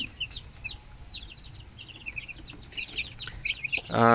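Small chicks peep in a steady scatter of short high chirps close by, a brief louder sound rising right at the end.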